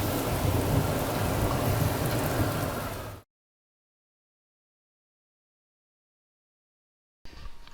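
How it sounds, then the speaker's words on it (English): Heavy rain hisses and patters steadily on a stormy day for about three seconds, cuts to silence, then briefly returns. "Here comes the rain."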